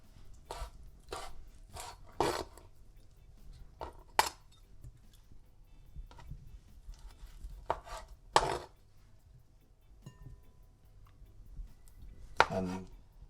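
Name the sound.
knife cutting conch into smaller pieces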